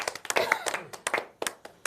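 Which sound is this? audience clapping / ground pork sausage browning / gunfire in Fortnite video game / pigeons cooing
audience clapping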